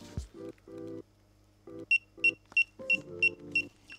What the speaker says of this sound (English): Just hold it down and it'll start to beep.